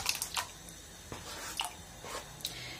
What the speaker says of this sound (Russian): Отправляем в кастрюлю картошку.